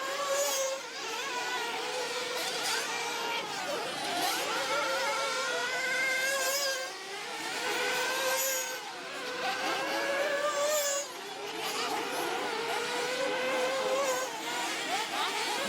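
Shrill, high-pitched nitro engines, including an OS AD3, buzz and whine as small RC truggies scream past at an off-road race, rising and falling in pitch with a constant engine drone.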